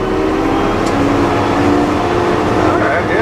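A snowcat's Cummins diesel engine, grooming at Park City Mountain Resort, drones loud and steady up close, revving from 1500 to 1800 RPM with a slight rise in pitch toward the end.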